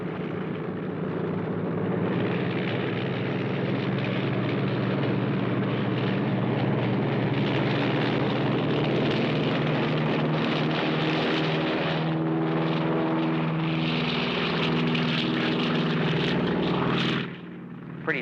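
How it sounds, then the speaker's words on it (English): Small propeller airplane taking off from a runway, a loud, steady engine drone with rising harmonic whine that fills the whole stretch, then drops off sharply near the end. "Pretty sloppy takeoff."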